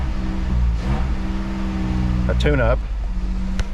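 A Jeep Wrangler with 140,000 miles idles steadily just after a coil pack change, a low continuous engine hum under a man's speech, with a brief louder tonal sweep partway through.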